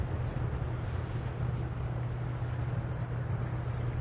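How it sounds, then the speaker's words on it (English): Stout, steady wind gusting on an open shoreline beside a moored barge on a June afternoon, a continuous broadband rush with low buffeting rumble against the microphone, loud and unbroken throughout. "Now that wind is stout"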